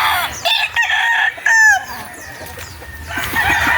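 A rooster crows close by on a coffee farm, a loud rising-and-falling call, with clucking and other fowl sounds around it.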